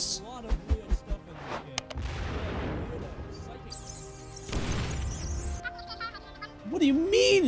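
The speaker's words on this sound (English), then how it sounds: "Ready the mortars!" Mortar artillery fire in the video game Rimworld, aimed at a manhunting chinchilla horde: a couple of heavy, rumbling blasts spaced a few seconds apart, mixed with short game effects and animal-like bleats.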